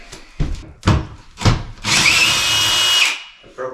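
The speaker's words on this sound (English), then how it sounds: "Let me go get my drill." A power drill used during bathroom demolition in a rental house gives a few short bursts, then a steady high-pitched whine for about a second before stopping, close and loud with no talking.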